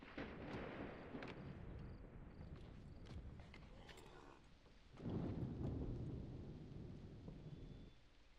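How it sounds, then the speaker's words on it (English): Rain and rolling thunder during a storm in the video game Assassin's Creed III, a steady wash of rainfall with several sharp cracks and a louder thunder rumble swelling midway before easing off. "Oh, it's starting to rain."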